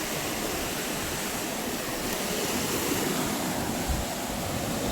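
Ocean waves break steadily on a coquina rock beach, a dense and continuous roar of surf and wash that stays loud throughout, with no voices.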